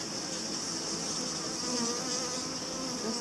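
A newly emerged worker honeybee buzzes steadily and close, a continuous high insect drone with no pauses and no voices.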